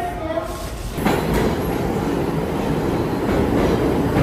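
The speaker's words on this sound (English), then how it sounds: "Look, KK, your train." A train rolls past nearby with a loud, steady rumble and rattling wheels that swell after the first second and continue to the end, with faint voices at the start.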